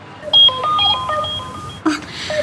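A cellphone rings in a domestic drama scene, a bright electronic melody of sustained tonal beeps that plays for a couple of seconds before a short burst of voice and rustle cuts in.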